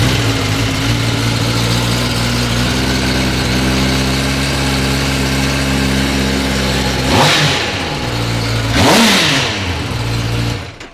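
Kawasaki motorcycle engine idling with a strong low throb, then revved sharply twice in quick succession, each blip rising and falling, loud and close with no talk.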